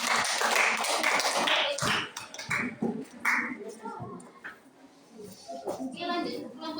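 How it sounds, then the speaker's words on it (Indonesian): Applause in a classroom during a teaching practice lesson: scattered, uneven clapping and tapping from a group, fading in and out alongside children's voices and chatter. "Berikan aplaus."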